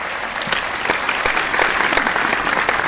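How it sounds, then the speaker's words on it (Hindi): Audience at a Mumbai poetry gathering claps loudly and steadily, many hands forming a dense applause that carries on throughout with a few louder individual claps standing out. "एक बार सारे लोग तालियां बजाकर मुझे आदेश"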